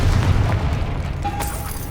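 A Confringo fire spell exploding in Hogwarts Legacy, a low rumbling boom with a faint bright ringing tone near the end, moderately loud with no voice.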